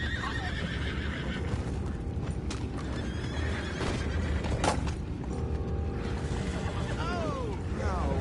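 Horses in the Red Dead Redemption 2 video game whinny and clip-clop at close range, hoofbeats running steadily under a bright neigh, with a voice speaking over the game sounds.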